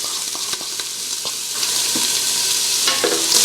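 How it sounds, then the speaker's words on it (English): Diced onion is sautéed in hot olive oil in a soup pot, giving a loud, close, crackling sizzle that swells and grows brighter as stirring clicks and scrapes break through, with no talk. "We're going to saute these quickly and give it about 3 to 5 minutes."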